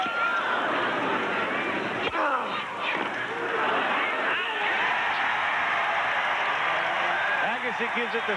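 Tennis crowd at a 1997 Davis Cup quarterfinal, Agassi against Siemerink, cheering enthusiastically, a dense, continuous roar of applause and voices filling the arena throughout.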